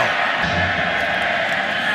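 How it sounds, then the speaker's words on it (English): Loud, steady roar of a football stadium crowd at a Baylor vs West Virginia college game, a dense continuous wash of cheering voices with no breaks. "Crowd's loud"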